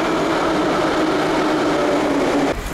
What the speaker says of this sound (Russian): Сегодня я еду в центр на метро первый раз в своей жизни.